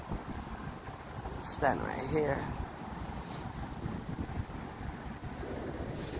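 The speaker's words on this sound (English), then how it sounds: "It's just too windy." Strong wind gusting across a phone microphone at Brooklyn Bridge Park, a steady low roar with buffeting swells, while a nearby voice speaks over it.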